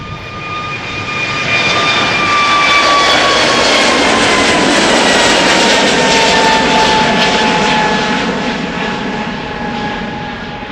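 An airliner goes around at Schiphol Airport, jet engines spooling up into a loud sustained roar with whining tones sliding downward as it passes overhead and slowly recedes; no talking.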